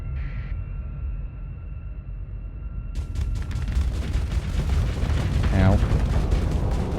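A sudden heavy barrage of missile explosions erupts in the Starsector space game, rolling booms and crackling blasts building into a loud sustained rumble, with a man's brief exclamation partway through.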